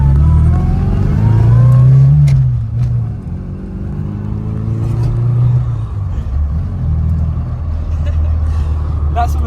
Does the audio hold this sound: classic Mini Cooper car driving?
yes